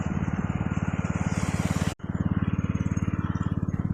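A small engine-driven generator chugs loudly and evenly at close range beside a pond, with a short break in the sound near the middle.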